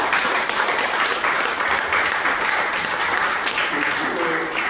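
A church congregation applauding, a dense, steady wash of clapping from many hands filling the room, loud and sustained without a break.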